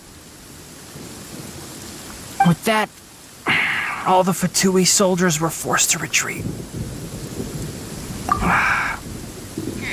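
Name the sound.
thunder and rain from lightning strikes in the video game Genshin Impact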